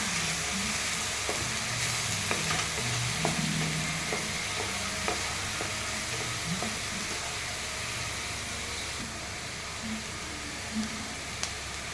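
Onion paste fries in oil in a pan with a steady, close sizzle, while a spoon scrapes and stirs at an irregular pace throughout; no one speaks.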